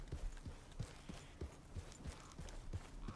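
A horse's hooves clip-clop in a steady, evenly spaced trot in the video game Red Dead Redemption 2, close and clear over a light game ambience.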